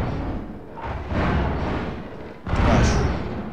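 Explosions rumble in Half-Life 2, heard as muffled, underwater-sounding booms that swell around one second and again at two and a half seconds, loud and close, with no clear speech.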